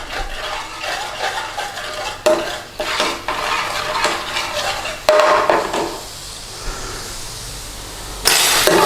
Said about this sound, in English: Give that a mix. Cook that out a little bit.